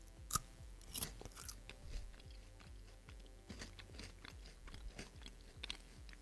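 Close, quiet chewing of marshmallow-flavored Halloween candy, with soft repeated crunchy bites and wet mastication sounds, no talking.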